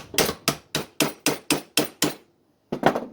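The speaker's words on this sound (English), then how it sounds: "give her a few taps on the end with the hammer" A hammer taps the end of a leghold trap pan with eight quick, evenly spaced metallic knocks, a short pause, then a final double tap, close and clear.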